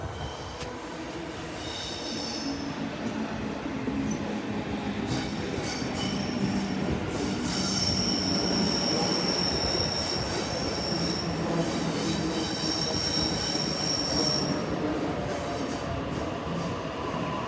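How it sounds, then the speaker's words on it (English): A train rumbles past close by for the whole stretch, its wheels letting out high, drawn-out metallic squeals that rise and fade over the steady roar. "Here comes the train, literally in front of me."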